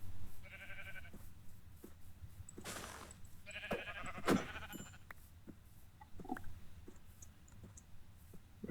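Sheep in a survival video game bleat faintly several times over steady background game noise, with scattered clicks and a louder burst near the middle.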